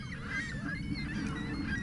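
Canada geese honking along a lake shore in Mississauga, a chorus of overlapping calls from several birds over steady outdoor background noise, fairly close and continuous with no talking.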